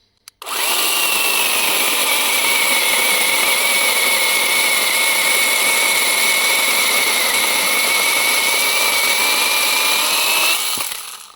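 A cordless battery chainsaw powered by a 2.5 Ah battery starts up and runs at a loud, steady high-pitched whine while cutting, holding constant for about ten seconds before stopping abruptly.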